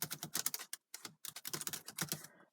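Rapid key clicks from typing on the keyboard of a Dell Inspiron E1705 laptop, heard close up in quick bursts with a short pause partway through.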